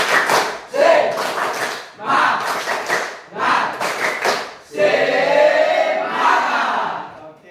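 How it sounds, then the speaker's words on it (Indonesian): Classroom group performing a rhythmic spirit clap, bursts of loud clapping in repeated patterned phrases with crowd voices shouting along, close and energetic. "Tepuk semangat."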